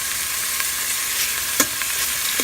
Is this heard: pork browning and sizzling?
yes